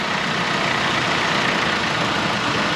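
The 2.4-litre engine of a 2007 Chrysler PT Cruiser runs loud and close with a dense, steady roar, while a possible engine mount fault is being checked.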